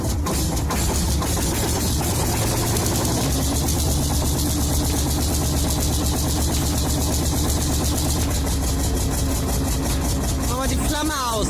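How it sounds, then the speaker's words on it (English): A Landini SL50 tractor engine cold-starting with no filters, settling into a loud, steady, rough mechanical chug that runs continuously close up. "This is the Landini SL50's first cold startup in barebones mode."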